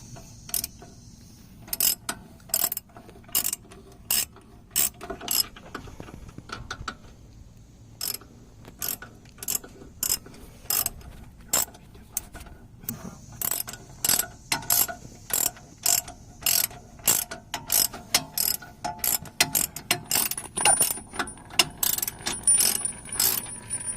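A 1/2 inch drive ratchet wrench with a 15 socket tightens brake bolts on a Crown Victoria, giving rapid bursts of close, sharp clicking strokes with brief pauses between them.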